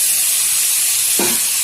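Washed okra and potatoes tossed into hot oil with nigella seeds and turmeric give off a loud, steady hiss and sizzle, with a short thud of food hitting the pan near the end.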